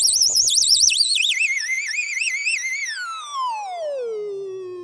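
A BOSS SY-300 guitar synth with deep pitch envelope and fast attack: a bright, wobbling synthetic tone with rapid vibrato that sweeps down in pitch and fades over a few seconds, heard alone.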